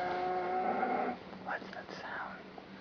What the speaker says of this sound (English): I think that's a cow, maybe.